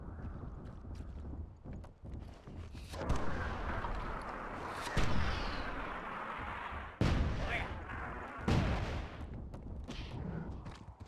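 Dwarven mortars firing in the fantasy strategy game Myth, on the Walls of Muirthemne level. Several deep booming blasts land a few seconds apart over a continuous rumbling, windy background.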